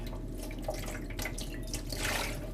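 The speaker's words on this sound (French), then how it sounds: "on rince" Fruits and vegetables rinsed under a running tap in a Haitian creole kitchen, a steady close stream of water splashing into a sink with small shifting surges, no voices.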